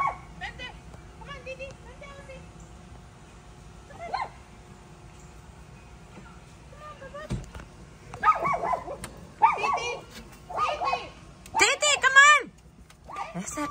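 A small dog yaps in short, sharp bursts, especially toward the end, while people talk and call out nearby.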